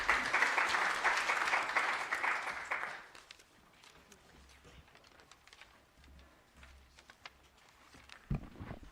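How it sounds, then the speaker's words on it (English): Audience applause at a university project launch event, a dense burst of clapping that fades out after about three seconds, leaving quiet room noise. "Can we please give her a round of applause?"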